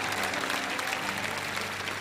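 A church congregation claps together during a lively sermon, forming a dense, steady wash of applause with no voices heard.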